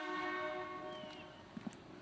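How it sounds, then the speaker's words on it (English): Air horns mounted on a Ford 8N tractor converted into a chuck wagon sound a steady, loud multi-tone blast that holds through the whole moment and fades slightly toward the end, with a few brief knocks near the finish. "We got air horns"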